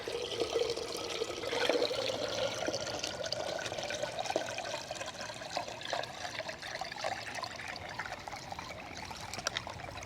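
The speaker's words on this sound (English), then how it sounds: "is it going to take the sound of the water down because it's got less falling area to make that splashback?" Water trickles and splashes steadily into the basin of a small DIY tabletop fountain built from thrift-store parts, a close, continuous, gentle pouring with no voices.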